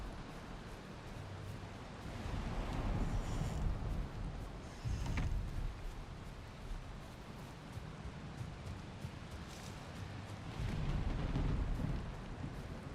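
Rain pours in the Valheim video game while low thunder rumbles swell and fade in waves, with heavier surges near the start, middle and end and no talking.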